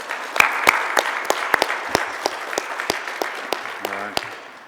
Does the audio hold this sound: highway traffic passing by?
no